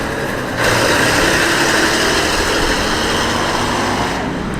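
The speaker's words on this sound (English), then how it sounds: "Next up is the AEC Mammoth Major tanker." Classic AEC Mammoth Major tanker truck engine running at a vintage truck run, a loud steady diesel rumble and rattle close by that swells up after a short moment and holds.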